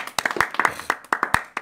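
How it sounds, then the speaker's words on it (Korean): A few people clap briefly in a small church Bible study session, a short run of about a dozen crisp, close hand claps in loose rhythm. "우리 주님께 먼저 영광의 박수를 드리고"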